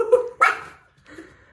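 A dog barks and yips in two loud, close bursts followed by a softer whimpering yelp, with no talking over it.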